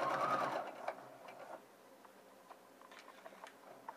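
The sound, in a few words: sewing machine stitching a welt pocket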